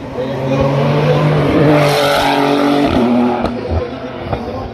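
A race car at a national hill climb in Hébécrevon, 2024, roars loudly at close range, its engine note holding high and steady before falling away as it passes, with faint commentary underneath.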